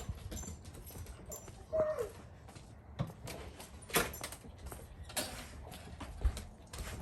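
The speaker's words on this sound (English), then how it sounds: "Open the door." A house door is opened at night by a trained Border Collie service dog, with scattered creaks, clicks and mechanical knocks spread unevenly over several seconds amid quiet surroundings.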